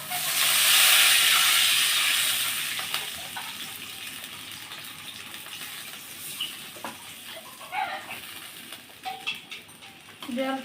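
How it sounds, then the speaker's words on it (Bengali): Fish curry gravy for rui macher horogouri, water just added to fried spice paste in the pan, hissing and sizzling steadily then settling into a softer bubbling simmer with small pops, close by and fairly loud, no talk. "জলটা দিয়ে আমি এবার ফুটতে দেব।"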